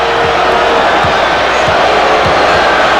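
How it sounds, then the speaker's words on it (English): A packed arena crowd at a 1993 NBA playoff game between the Knicks and Bulls keeps up a loud, sustained roar of ovation, with basketball bounces thudding at a regular rhythm beneath the cheering. "An ovation for Charles Smith as he is replaced by Anthony Mason"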